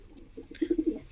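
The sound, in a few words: pigeon cooing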